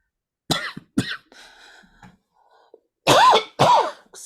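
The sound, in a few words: coughing and throat clearing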